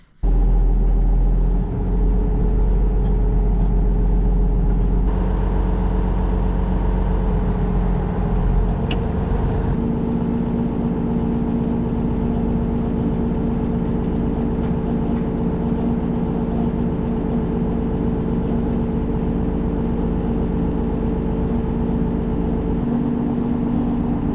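A farm tractor engine runs loudly and continuously while pulling hay equipment out, a steady close drone with a brief heavier surge near the start and a settling hum thereafter.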